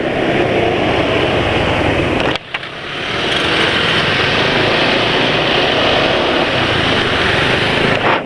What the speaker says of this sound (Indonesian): Dipakai pelan-pelan gini suara mesin lebih halus